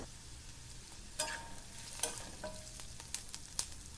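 Steady sizzle of sliced onions softening in a pan, broken by a few sharp scraping clicks from stirring, close and moderately loud.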